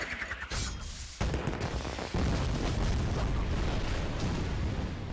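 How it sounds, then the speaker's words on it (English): Fireworks bursting in a video game, a dense run of booming, crackling explosions that build and stack on one another, loud and continuous across the stretch. "Check out those fireworks"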